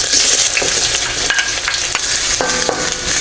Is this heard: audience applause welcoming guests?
no